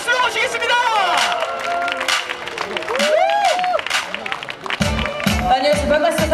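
An audience claps and cheers to welcome a trot singer at an outdoor beach radio concert in Haeundae, with the noisy crowd response sustained throughout and shrill voices rising over it.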